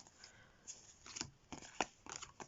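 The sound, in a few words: shuffling tarot cards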